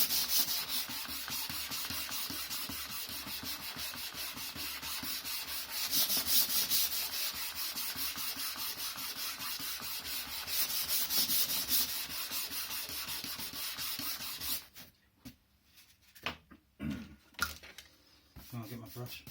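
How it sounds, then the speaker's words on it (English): Sandpaper rubbed over a glued board game box, a steady, close scratchy scraping for about fifteen seconds before it breaks into a few short, scattered strokes. "You just sand that over."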